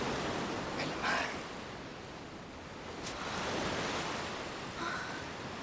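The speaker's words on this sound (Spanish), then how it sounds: "¿Esto es el mar?" Sea surf washing steadily along a shore, a broad continuous rushing with gentle swells in loudness and no clear separate wave breaks, moderately loud, with a few faint brief sounds over it.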